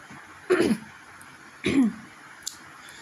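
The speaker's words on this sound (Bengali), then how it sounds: "আর কাশিটা মানে বারবার কাশি মানে চলে আসছে" Two short, raspy bursts of coughing and throat clearing from a person with a sore throat, about a second apart, close and fairly loud against quiet room tone.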